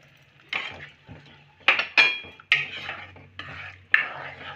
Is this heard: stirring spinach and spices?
yes